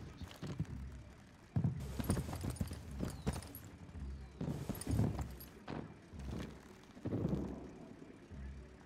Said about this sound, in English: I hear footsteps next to me